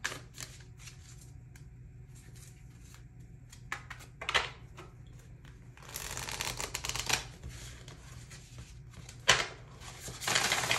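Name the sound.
shuffling tarot cards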